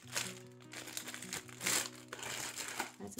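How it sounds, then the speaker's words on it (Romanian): A plastic bag of Luxury Truffles chocolate candies is crinkled and opened, a close, irregular rustling and crackling in uneven bursts over soft background music. "Cer scuze pentru sunetul pungilor."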